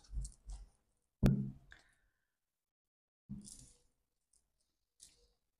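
Tarot cards cut and handled at a reading table, heard as a few sharp close clicks and soft card slaps spaced apart, with quiet pauses between them.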